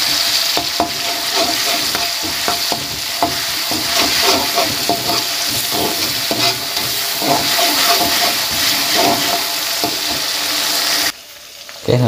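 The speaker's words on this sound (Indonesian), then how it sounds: "Goreng cabenya dulu." Chili peppers fry and sizzle steadily in a pan while being stirred, with a continuous loud crackle and repeated scraping strokes, cutting off abruptly near the end.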